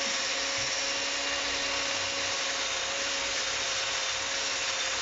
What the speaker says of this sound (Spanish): Estamos lijando aquí.